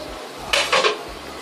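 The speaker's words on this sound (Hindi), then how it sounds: "अब हम अपना कुकर खोलने लगे" Metal clatter from opening a pressure cooker after cooking black chickpeas, a few sharp clanks of lid and pot in quick succession, close and loud, with no talking.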